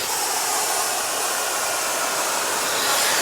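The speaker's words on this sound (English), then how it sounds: "I push this guy and you can hear the vacuum" A steady, loud broadband whoosh of a Neakasa vacuum garment steamer's vacuum running continuously, like a strong airflow hum with no breaks.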